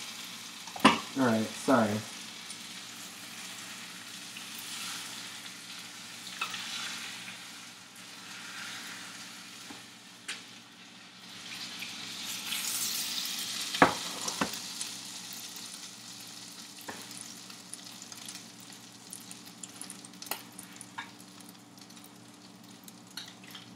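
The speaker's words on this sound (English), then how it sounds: "It depends also like how long you're actually cooking it in the pan." Fish frying in a pan during home cooking, a steady close sizzle running throughout with occasional stirring and clattering, and a short spoken remark near the start.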